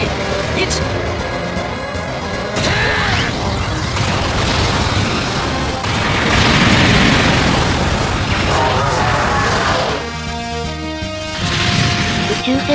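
Beam cannon firing in the video game Moon Duelers, a sustained roaring blast with rumbling booms and crashing bursts that swell and fade over several seconds, with no talk.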